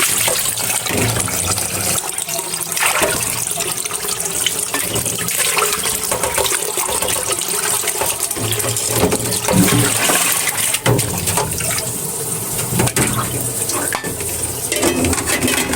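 Duck meat is washed under running water, with a steady, close splash and trickle throughout and occasional knocks of dishes and a pot against a sink. No one speaks.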